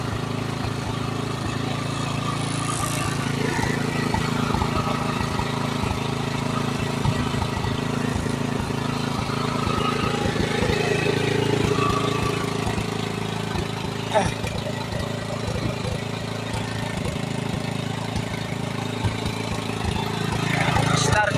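Small machine engine running at a steady idle for the whole stretch, a constant mid-pitched drone with faint voices in the background, at a farm worksite in South Korea.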